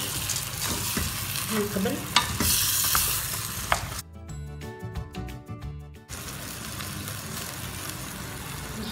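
Lentils tipped into a pot and stirred for a rustic Moroccan rfissa, a steady sizzle and scraping stir running throughout, briefly dropping away in the middle before resuming at the same close, even level, with a few quiet words spoken.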